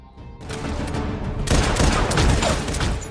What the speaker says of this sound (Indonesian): tiba-tiba Brian diserang lagi oleh kelompok tentara bayaran dan terjadi aksi tembak-tembakan